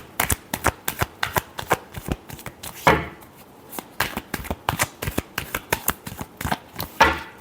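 Tarot cards are shuffled by hand in a rapid run of crisp riffling flicks and soft slaps, close and fairly quiet, with one longer riffle partway through. No voices are heard.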